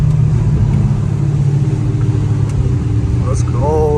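Dodge Hellcat Redeye cruising at night through downtown LA behind a twin-turbo Lamborghini. A deep, loud engine rumble runs steadily throughout, with a brief rising whine near the end and a voice talking over it.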